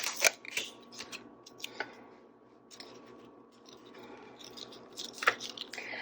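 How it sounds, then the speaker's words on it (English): Scissors snip through folded paper in a few distinct, close crisp cuts spaced apart, with soft rustling of the paper between snips and quiet background hum. "I can cut whatever shape I want out of the middle part"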